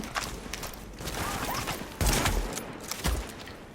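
Bursts of rapid gunfire in the video game Tom Clancy's The Division crackle over a noisy, cluttered background, with two heavier volleys standing out partway through.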